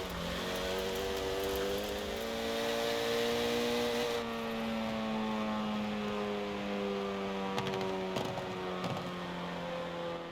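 A deep Renault Megane R26.R engine in Forza Horizon 4 drones and climbs steadily in pitch, holding a rich, throaty hum that shifts briefly near the end.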